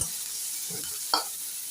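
Chopped onion and garlic sizzle gently in a pan while cooking for masala macaroni, a continuous low frying hiss broken by one brief stirring scrape, close up with no voices.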